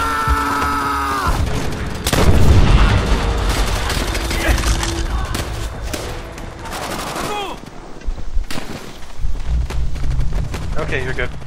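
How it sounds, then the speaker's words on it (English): Bursts of gunfire in Call of Duty: World at War, including an enemy machine gun, with booms and rattling shots through most of the stretch, under excited talk among co-op players. "There's another MG on our left."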